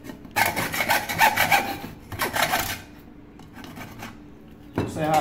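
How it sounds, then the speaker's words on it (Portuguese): A small hand saw cuts through the aluminium handle of a milk pot, with a few rhythmic rasping strokes, close and fairly loud, pausing partway, while a voice talks faintly in the background. "Isso aqui pode ser tirado na talhadeira, mas também pode ser tirado na serrinha. Eu vou serrar aqui, ó."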